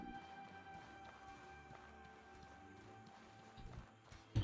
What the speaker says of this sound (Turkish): Bir yürüme sesi duyuyorum ama.